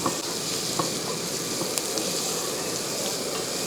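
Sliced onions frying in a pan until lightly browned for an egg and pappadam curry, making a continuous, dense, close sizzle with a few faint clicks of stirring.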